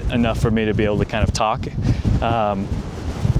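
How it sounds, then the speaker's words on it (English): Strong gusty wind buffets the microphone at an outdoor bucket-list spot, with rumbling gusts running under a man's nearby speech. "the most insane amount of wind I've experienced like in a really long time"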